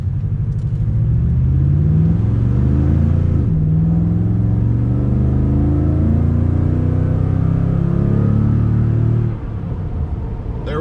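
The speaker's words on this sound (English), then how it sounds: "We're going to take off, accelerate up to about 50 or so, and see how it sounds." Toyota Tundra TRD with dual exhaust accelerating from a stop to about 50 mph, a deep rumbling engine note that climbs through several gear changes and then settles as the truck cruises, close and loud.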